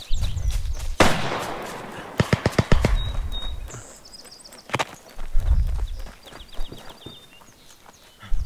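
Gunfire in the video game Beyond The Wire at Chateau-Thierry, a quick string of sharp shots with separate single cracks between horse hoof clatter and battlefield noise.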